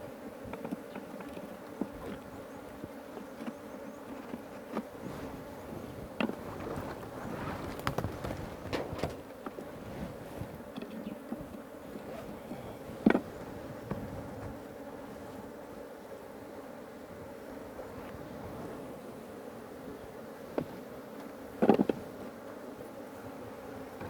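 Honeybees buzz steadily during a honey harvest in Uganda's Karamoja region as they are brushed off the combs into the hive, a continuous close drone with a few sharp knocks and brushing scrapes.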